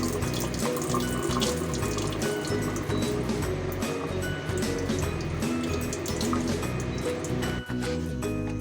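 Water runs steadily from a tap into a sink, splashing continuously, with soft music playing underneath.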